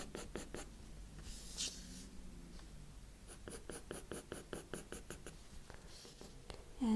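A soft 5B pencil cross-hatches on paper in quick, rhythmic strokes, close and faint, scratching in short bursts with brief pauses between sets of lines.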